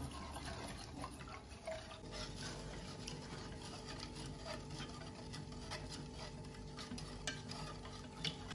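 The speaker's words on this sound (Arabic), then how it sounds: "حابكم تحريك مستمر على الغاز ليشتد عنا الخليط" Mango pudding mixture is stirred continuously in a pot on a gas stove, a faint steady scraping and rubbing that repeats in close quarters without talk.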